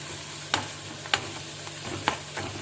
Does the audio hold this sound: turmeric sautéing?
yes